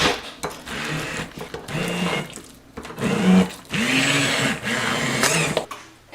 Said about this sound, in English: Now I'm going to use my immersion blender and blend the sweet potato until it's smooth